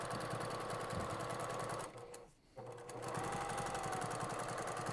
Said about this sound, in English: because we're top stitching, we're not going to sew off the edge